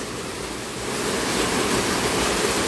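Steady broadband roar of a waterfall at an eco-tourism villa falls in Aurora, continuous and fairly close, swelling slightly louder partway through with no talking.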